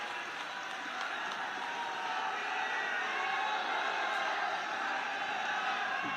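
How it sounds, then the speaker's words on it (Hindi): Sustained crowd applause at a public development event, a steady dense wash of clapping that holds evenly throughout with no voices standing out. "जब तक पहुंचे तालियां बजती रहें।"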